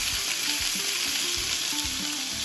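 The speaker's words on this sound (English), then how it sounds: "The meat is cold on the pan, so you're getting a lot of spitting" A pork tenderloin sears in a hot pan, giving a loud, steady sizzle with constant crackling and spitting from meat that went in cold, and no voices over it.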